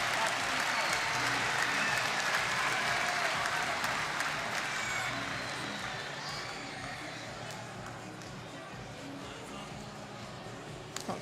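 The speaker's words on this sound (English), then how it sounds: "Well, the crowd loved it." Arena applause for a pommel horse routine at the Osijek World Challenge Cup, dense clapping that slowly fades, with a commentator's voice over it.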